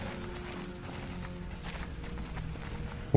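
Hooves of a horse in Skyrim clip-clop at a steady walking pace, moderately close and fairly even, over a low ambient game backdrop with no talking.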